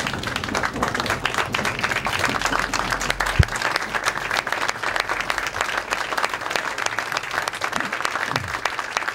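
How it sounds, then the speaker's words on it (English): Sustained applause from a standing audience at a Metro Council panel event, dense steady clapping from many hands filling the room, with faint crowd murmur underneath and a brief thump partway through. "let us just give you a round of applause and a standing ovation for all that you've meant to all of us"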